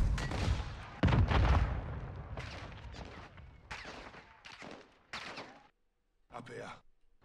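In Call of Duty Modern Warfare 2, loud bursts of gunfire and booming shots come in irregular clusters, with brief pauses between volleys and one short near-silent gap.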